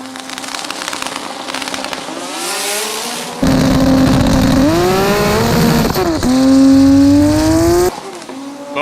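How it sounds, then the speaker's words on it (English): A seven-second drag car in the left lane at a Drag Week event launches hard down the strip, its engine screaming loud and close with rising revs through two gear changes before cutting off. "This is a 7-second car in the left-hand lane."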